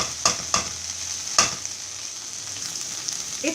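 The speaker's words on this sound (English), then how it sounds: "6 minutes since I have been frying this okra." Okra being fried in a pan, with a few sharp stirring scrapes early on over a steady, soft sizzle that continues throughout.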